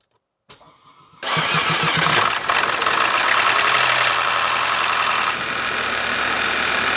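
An Audi 2-liter engine cranks briefly, then catches and fires up roughly, settling into a loud, steady, uneven idle close by.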